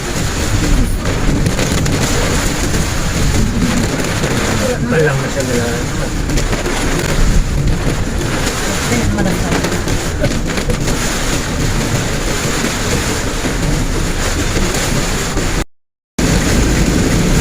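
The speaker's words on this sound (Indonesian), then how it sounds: "daerahnya penjual lemo dan hujannya deras sekali" Heavy tropical downpour drums on a moving car on the road from Barru to Pangkep, South Sulawesi. It is a loud, unbroken roar of rain and road noise throughout, with a brief spoken exclamation inside the car.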